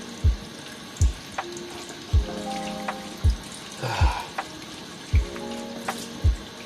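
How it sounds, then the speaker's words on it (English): Water is poured onto a potted plant's soil to soak it, producing a regular series of gulping splashes about once a second, with trickling and gurgling in between, close and fairly loud. "give it a nice good soak"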